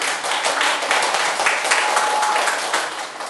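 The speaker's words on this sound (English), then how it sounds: "we give a big applause for Indonesia" An audience claps steadily at the end of an economics seminar on Indonesia. The dense, even applause holds for a few seconds before tapering slightly.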